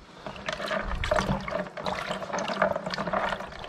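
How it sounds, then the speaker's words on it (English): A handful of big wild prawns, freshly caught on the Guernsey coast, splash into cooking water, a continuous bubbling, pouring wash of liquid that swells and churns steadily for several seconds, with no talking. "just grab a handful and straight into the water, and instantly they'll start going orange."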